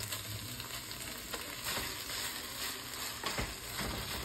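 Rice fries in a hot pan under a constant close sizzle, with intermittent stirring scrapes and a few sharper clacks from the utensil, and no talk.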